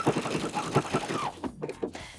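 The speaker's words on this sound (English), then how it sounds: "Now I'm gonna stitch all the way around the armhole, right in that crease of the binding" Sewing machine with a walking foot engaged stitching around the armhole of a puffer vest made from a thrifted coat, a rapid steady mechanical patter close up that slows and stutters toward the end.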